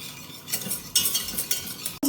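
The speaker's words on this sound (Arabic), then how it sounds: "هنقلب بقى حلو خالص ان القوام بتاعنا دوت يغلي بقى ويتقل كمان" A spoon stirs a thickening Oreo dessert mixture with instant coffee in a pot on the stove, with repeated scraping strokes in an uneven rhythm, close and fairly loud, ending on a sharp clink.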